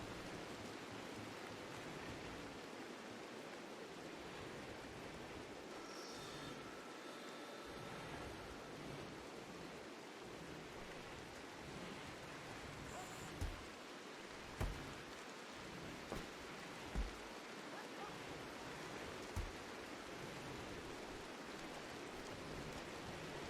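Rain in the video game RimWorld falls as a continuous soft hiss, with several faint low thuds in the second half and no talk.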